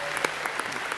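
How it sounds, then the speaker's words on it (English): Brief applause from a crowd at a state party convention, a dense patter of clapping with a few sharper individual claps standing out, heard for only about a second. "you owe yourself a great round of applause for being here today"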